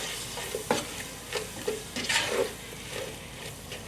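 Red curry paste ingredients cook gently in a pan over medium heat, giving a soft steady sizzle broken by several distinct scraping stirs of a utensil against the pan.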